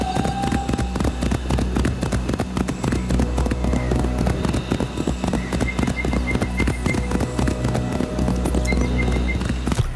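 Galloping horse in Assassin's Creed, hooves drumming in a fast continuous patter throughout, loud and close, with game ambience underneath.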